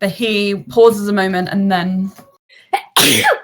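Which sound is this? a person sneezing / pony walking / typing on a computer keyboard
a person sneezing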